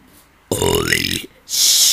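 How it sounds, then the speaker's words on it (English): A loud, long burp in a burping contest, about three-quarters of a second of deep croaking eructation, followed by a burst of hissy noise. "One last burp."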